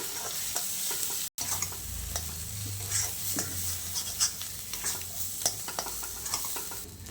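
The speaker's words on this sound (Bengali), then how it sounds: "এখন মা দিয়ে দিচ্ছে মটরশুঁটির পেস্টটা" Pea paste with ginger, garlic, green chilli and spices frying in a pan, a soft continuous sizzle broken by scraping stirs and clinks, fairly quiet and close.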